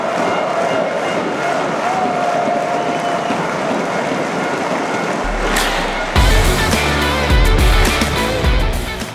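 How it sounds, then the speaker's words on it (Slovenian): A sold-out crowd of over 11,000 at Stožice arena fills the air with sustained applause and cheering for Luka Dončić before a Croatia vs Slovenia basketball game, a dense roar that swells louder near the end. "Tale aplavz in vzkliki so pravkar bili namenjeni Luki Dončiću"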